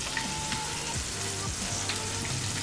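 Pork chops fry in hot grease with a steady, even sizzle and fine crackle, close and continuous throughout, no voices present.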